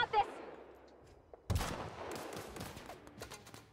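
Video game gunfire, a sharp shot at the start followed by a louder burst of rapid overlapping shots and scattered cracks, fairly close, with faint voices in the mix.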